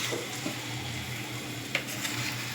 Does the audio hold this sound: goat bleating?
no